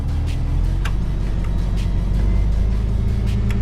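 A flatbed truck's diesel engine runs at a raised idle with the PTO engaged and the parking brake set. It gives a loud, steady, close rumble with faint clicks and rattles on top, and no voices.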